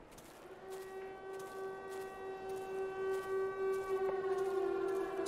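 A sustained, droning siren wail from the indie horror video game Rot holds a steady pitch and slowly grows louder, sounding distant and eerie over a low ambient rumble.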